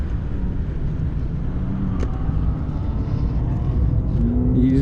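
Race car engine droning steadily during a lap at Sonoma Raceway, heard from inside the car as a constant loud hum with a faint rising whine near the end.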